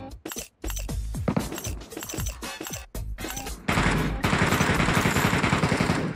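Rapid bursts of gunfire in a Chinese extraction shooter game, starting as separate sharp shots and then turning into a dense, loud volley of sustained automatic fire, with no voices.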